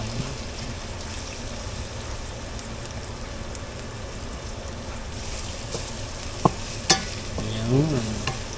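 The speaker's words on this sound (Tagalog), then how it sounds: "Nagpapansit si Mayora" Garlic and pancit fry in a pan with a steady, close sizzle, broken late by a few sharp clinks and scrapes of a utensil stirring the noodles.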